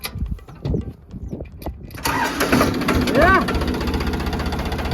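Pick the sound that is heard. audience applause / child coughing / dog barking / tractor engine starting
tractor engine starting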